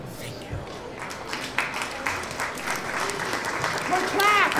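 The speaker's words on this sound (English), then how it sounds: "More clap!" Audience applause at a spoken-word poetry performance, a dense patter of clapping that gradually builds louder, with a few voices calling out and a whistle near the end.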